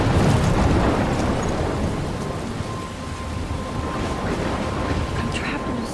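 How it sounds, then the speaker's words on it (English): A thunderstorm with heavy rain in the Life Is Strange video game: a dense, loud, continuous wash of rain with deep thunder rumbling underneath, heaviest at the start and steady throughout. "I'm trapped in a storm?"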